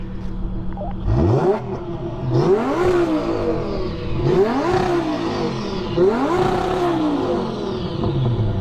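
A 5.2-litre V10 car engine fires up and revs hard several times in a row, each rise roaring up and falling back, loud and close.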